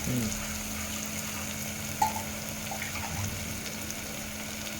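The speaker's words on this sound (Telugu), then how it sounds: "పచ్చిమిరపకాయ ఉల్లిగడ్డ అంతా ఫ్రై కావాలి" Green chilies and onions frying in a pan while cooking Nawabi chicken bagara rice, a steady low sizzle with a faint hum. There is one brief clink near the middle and no talk.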